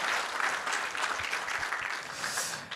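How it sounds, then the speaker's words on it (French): An audience at a conference on urban soils and nature in the city claps steadily for an event organizer, a moderately distant, even wash of applause with no talking. "je pense qu'elle mérite aussi des applaudissements."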